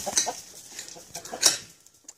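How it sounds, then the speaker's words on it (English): A black rooster clucks in a few short, close bursts, with a louder call near the end; no talk is heard. "The rooster kind of doesn't like Victoria"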